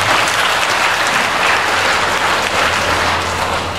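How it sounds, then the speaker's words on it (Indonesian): Applause from training participants at an ESQ seminar session, steady and loud clapping sustained for several seconds with no talk over it. "Tepuk tangan dari kita semua."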